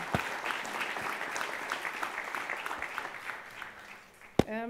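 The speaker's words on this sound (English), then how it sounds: "So I think it really deserves an extra applaud for these great ideas that have been generated here" Applause fills a hackathon business day at a smart city event, a steady wash of many hands clapping at moderate distance that fades slightly before a sharp knock near the end.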